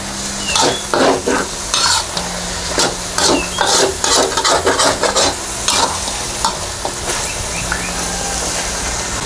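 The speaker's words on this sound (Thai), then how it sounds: "ให้เราเติมน้ำลงไปเล็กน้อยค่ะ เพื่อเราจะผัดให้เครื่องแกงเราหอมนะ" Thai curry paste is stir-fried with a little water, with a spatula scraping the pan in rhythmic, repeated strokes over a constant close sizzle. The strokes come in bursts and thin out toward the end.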